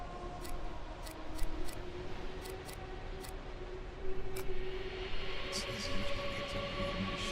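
Scissors sounds in the Counter-Strike 2 video game, a series of short, crisp metallic snips in uneven clusters over a steady mechanical hum and background game noise.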